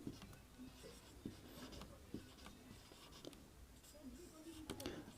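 Soft scratching of handwriting on paper as notes are written, faint and close, with small irregular strokes and taps beneath a low background hum.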